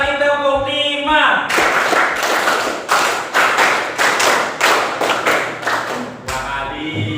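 A class of pupils in an Indonesian classroom claps a counted rhythm, a series of sharp, loud group claps in short bursts, with a teacher's voice before the clapping starts.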